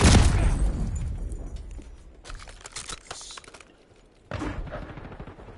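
Sniper gunfire in Call of Duty opens with a loud, heavy blast that fades, followed by clusters of sharper cracking shots and a final burst of loud firing.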